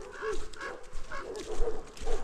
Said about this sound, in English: The dogs are protesting.